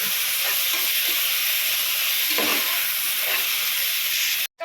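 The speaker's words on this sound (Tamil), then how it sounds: "தக்காளி சேர்த்து நல்லா மசிகிற அளவுக்கு நல்லா கிண்டி விட்டுக்கலாம்" Tomatoes frying in a pan of onions for a biryani, a steady loud sizzle with soft scraping as they are stirred, broken by a brief cut near the end.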